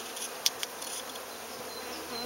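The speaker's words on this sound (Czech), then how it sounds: "Teď mi jedna včela sedí na fotoaparátu." Honey bees buzz steadily on their first spring flight on a sunny, cool midday, a continuous close hum with a few brief louder passes near the microphone.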